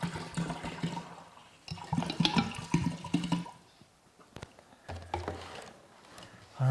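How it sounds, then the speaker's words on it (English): Water pours and splashes into a vessel of honey for mead, a continuous gurgling stream with surges and pauses, fairly close and without talk. "let's put the rest of our water in because our honey is pretty much all out of our jars"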